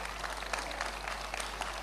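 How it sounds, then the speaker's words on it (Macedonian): An audience claps at an Ilinden Days 2014 folk music event. The applause is faint and steady, a dense patter that sounds distant and fills the short stretch. "Да ги поздравиме со еден силен аплауз."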